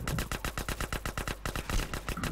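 Rapid gunfire in a multiplayer GTA-style game, a dense, loud burst of evenly spaced shots that rattle on like an automatic weapon for two seconds, with no talk over it.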